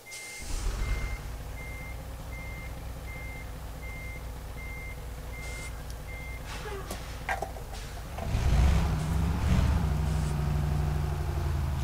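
Kenworth W900 truck in Euro Truck Simulator 2 reversing: evenly spaced electronic backup beeps over a deep idling diesel rumble, then the engine revs louder near the end.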